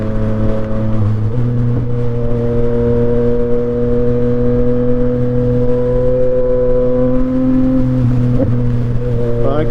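A Yamaha MT-09 motorcycle engine running at lower RPM, a loud, close, steady tonal drone with strong harmonics that shift pitch slightly, dipping and rising briefly near the start and end.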